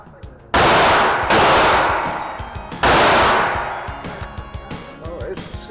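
A Smith & Wesson Model 48 revolver fired at close range: three sharp, loud shots spaced about a second apart, each with a long echoing decay.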